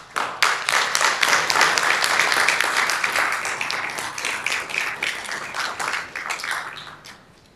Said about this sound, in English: So I applaud the family.